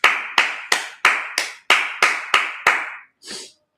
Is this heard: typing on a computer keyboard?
no